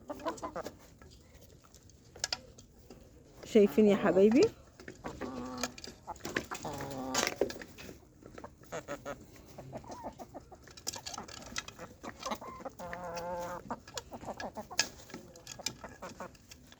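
Free-range village chickens cluck and squawk nearby in scattered bursts, one loud call standing out, while someone speaks briefly over them.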